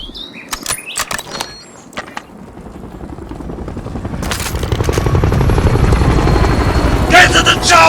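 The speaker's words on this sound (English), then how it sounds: "Get to the chopper!" A helicopter in the Call of Duty Warzone video game gives a steady rotor chop that builds in loudness and holds close, mixed with game effects and scattered clicks, while players talk.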